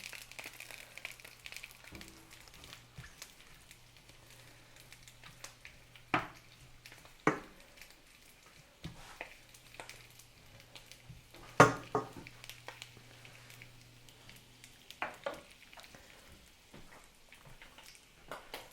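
Sausage cooking in a cast iron pan, steaming itself, gives off quiet, scattered sizzling and small pops, with a few sharper crackles standing out from a faint, continuous background.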